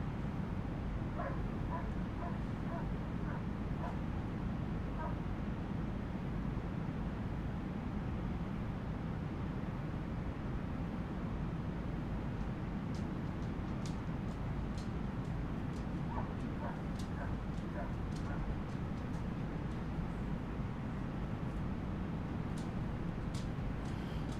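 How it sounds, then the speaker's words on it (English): A neighbour's dog barks in short bursts, faint and distant, in a couple of separate spells over a steady background hum. "I hear dogs barking, but it's not Hanky."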